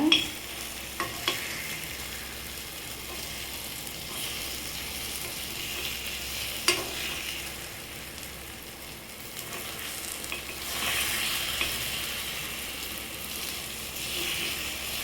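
Egg kuzhi paniyaram fries steadily in a pan as the pieces are turned one by one, with a continuous sizzle and occasional sharp clicks and scrapes of turning.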